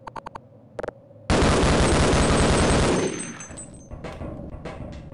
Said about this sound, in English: I want to rapid fire one of them.